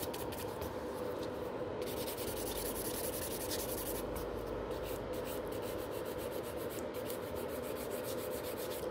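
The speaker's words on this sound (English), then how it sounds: "you're filing from one side to the middle to the other side" A nail file rubs across a fingernail in steady, close scratchy strokes with a few brief pauses, filing from one side to the middle to the other, with no talking.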